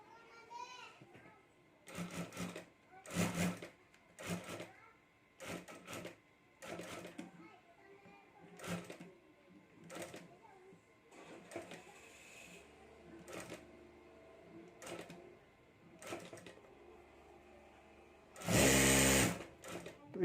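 A sewing machine stitching a clutch purse at home runs in short, spaced bursts, with a longer loud run near the end, under intermittent talking.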